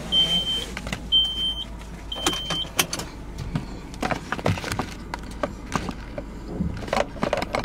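A car driving off-road over rough terrain through bushes, with rattles, knocks and bumps from the bouncing vehicle, plus several short electronic beeps early on, fairly close and continuous.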